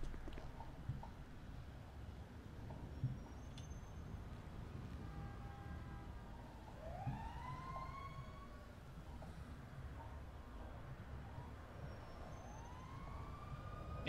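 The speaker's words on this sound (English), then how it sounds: "I hear sirens, but where is the police?" Distant wailing sirens rise and sweep over a constant rumbling background, faint and intermittent, with no voices, in the video game GTA 5.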